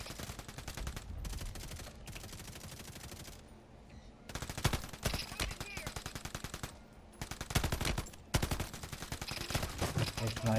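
Sniper and other gunfire ring out in the video game Call of Duty: Warzone, with loud, sharp shots in rapid clusters and bursts separated by brief lulls across the whole stretch.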